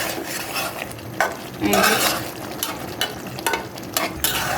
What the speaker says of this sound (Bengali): দিয়ে এটার সাথে আমি মিশাবো, মিশিয়ে একটু রান্না করে নেব